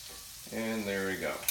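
Liver frying in a hot pan, a gentle, moderate sizzle with a brief tonal scrape or stir partway through, close and fairly quiet with no talking over it.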